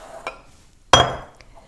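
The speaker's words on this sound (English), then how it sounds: "Now I would put this in my serving dish" Grape salad is spooned and scraped into a serving dish, giving one sharp clink of utensil on dish with a brief scraping tail, preceded by a softer tap; close and fairly loud, no voices.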